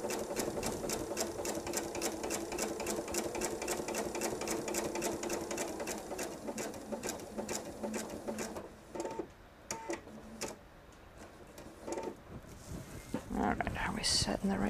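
A sewing machine stitches a quilted patriotic nine patch table runner, running in a steady rapid hum for about eight seconds, then stopping and starting in short bursts before a final run.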